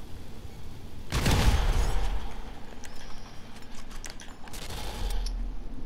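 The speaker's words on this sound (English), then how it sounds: "There was a second explosion." A sudden deep explosion in Grand Theft Auto V booms and rumbles, followed by scattered smaller pops and rattling, then a second low rumble near the end.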